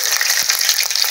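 Cumin seeds, added after mustard seeds, crackle in hot oil for a jackfruit seed curry, a loud, bright, continuous sizzle up close with small popping bursts throughout.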